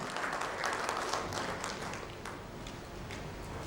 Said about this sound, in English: Can we have a warm round of applause?